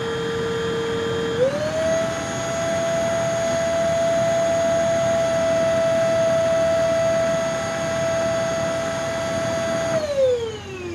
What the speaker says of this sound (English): Remember, this is a budget stick vac.